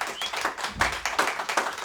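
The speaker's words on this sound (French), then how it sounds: "Vous pouvez leur applaudir un peu." An audience at a French slam poetry night applauds the poets, a dense run of close clapping that swells and pulses for a couple of seconds.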